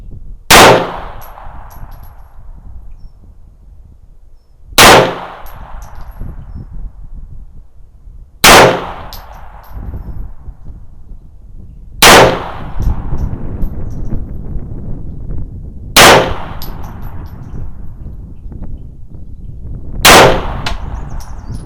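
Six sharp pistol shots from a Mauser HSC or a Walther PPK-S in .380 auto, firing copper-plated cast bullets. The loud cracks come singly, about every three to four seconds, over outdoor wind noise.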